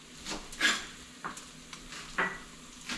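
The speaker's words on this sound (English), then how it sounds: "And now we're gonna lay them into some grease." Panko-coated Pacific sheepshead fish patties fry in hot grease with a soft, steady sizzle, broken by a few light scrapes and taps of a utensil against the pan.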